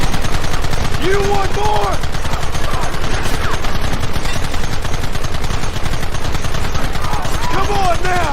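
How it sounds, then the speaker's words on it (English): Sustained gunfire from a Red Dead Redemption shootout, rapid dense shots filling the scene, loud and continuous, with shouting voices over the top. "Targets on the horizon. Fire at will!"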